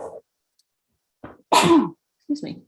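A single sharp sneeze bursts out close by, framed by brief speech just before and a short spoken phrase right after.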